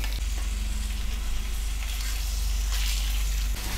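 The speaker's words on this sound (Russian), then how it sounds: "Пока мясо обжаривается" Meat sizzles steadily in a hot pan, a dense crackling hiss over a low hum, with no voices.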